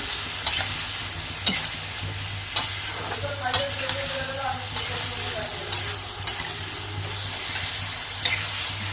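Spices for a rohu fish curry with potato, papaya and pointed gourd fry in a pan, a steady sizzle broken by repeated sharp scrapes and knocks of a spoon stirring the masala, close and alone.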